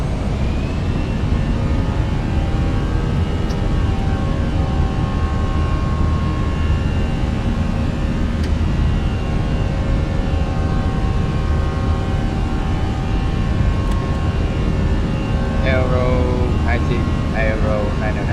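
United 244 airliner taking off from Florence runway 5 in Microsoft Flight Simulator 2020, with a loud, steady engine roar and whining tones that hold constant throughout.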